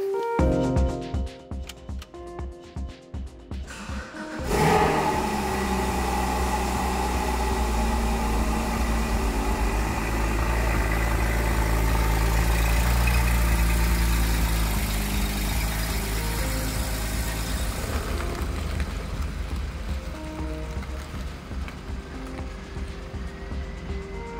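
A Porsche Cayman GT4 981 fitted with the factory Porsche Sport Exhaust, loud and close, with a deep engine drone held steady for several seconds, then easing off near the end.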